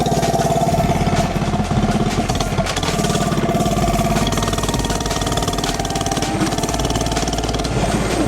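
Steady, loud engine drone of an FRP GMB100 mini bike being ridden after speed modifications, a continuous buzzing run close by with slight shifts in pitch, no voices.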